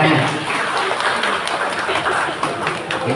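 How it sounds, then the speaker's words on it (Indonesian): Applause from an audience at a community barter gathering in a housing estate, a dense steady patter of many hands clapping for about three seconds with some voices mixed in. "Tepuk tangan."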